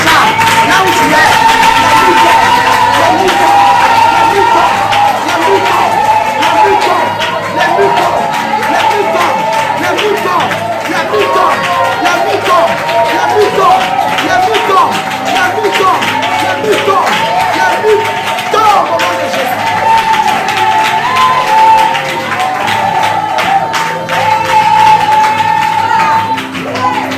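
A congregation at a fasting and prayer service claps and cheers with whoops and shouts, a sustained, loud crowd din that continues under a preacher's voice.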